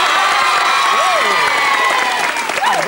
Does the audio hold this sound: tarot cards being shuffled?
no